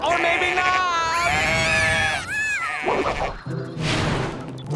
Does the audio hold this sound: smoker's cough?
no